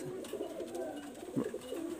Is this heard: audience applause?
no